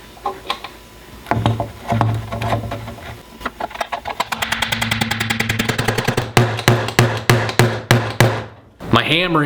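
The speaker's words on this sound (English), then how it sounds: "My hammering drove the joint apart" A run of sharp, repeated hammer knocks on a wooden dowel joint of a frame, some in quick bursts and others spaced apart, over a steady mechanical hum.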